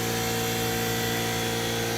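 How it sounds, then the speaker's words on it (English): An air compressor runs at a house build where plywood siding is going on, a steady droning hum with a constant mechanical buzz and no variation over the short stretch. "air compressor again."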